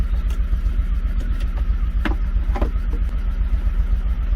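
A 1993 Lexus SC400 engine with a crank-no-start fault idles steadily and loudly close by, with a few faint clicks over the running engine.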